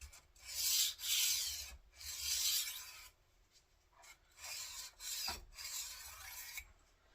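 A knife blade is drawn along a sharpener in long rasping strokes, several separate passes with short gaps between them, close up and clear, no voices.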